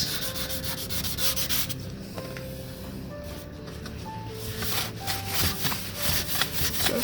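A badgeless grill for a 2005 Subaru STi is sanded by hand with 1500-grit sandpaper, giving a continuous close-up rasping scrub in quick back-and-forth strokes with brief pauses.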